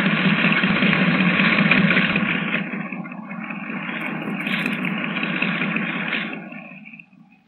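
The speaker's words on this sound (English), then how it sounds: "Under the sound of it, that engine needs attention." A boat engine runs with a steady mid-pitched drone and rattle, dipping and surging slightly before fading out at the end.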